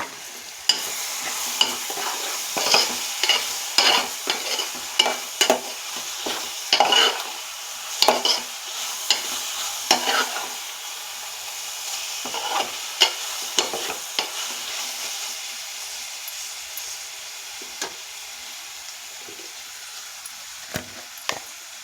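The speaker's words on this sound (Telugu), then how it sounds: "ఇప్పుడు ఇందులో ముందుగా కడిగి శుభ్రం చేసుకున్న మెత్తలను కూడా వేస్తున్నాను." Fenugreek leaves and mango pieces being stirred and fried in a pan, with a spoon scraping in repeated irregular strokes over a steady soft sizzle, fairly close and with no talking.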